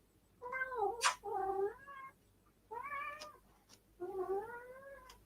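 A cat meows in a kitchen during baking, giving three or four drawn-out, wavering, close cries separated by short pauses, with no talk.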